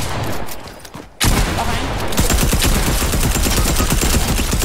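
Gunfire in a video game erupts into loud, dense rapid shooting after a quiet start and continues without letup. A voice speaks briefly at the beginning.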